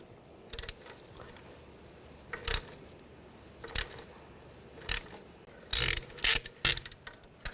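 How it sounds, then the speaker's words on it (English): A 5mm hex socket on a ratchet backs out a screw while removing a rear ABS wheel speed sensor on a 2000-2006 BMW X5, giving several short, spaced clicking bursts, close and quiet. "Using a 5mm hex socket, we're going to take this screw out."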